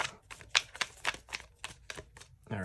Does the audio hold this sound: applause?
no